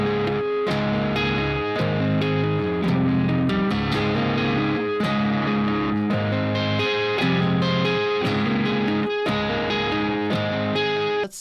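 A math rock guitar riff with added high melodic notes repeats in a busy, looping pattern, played loud and steady with no talking.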